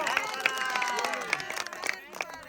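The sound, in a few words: family applause clapping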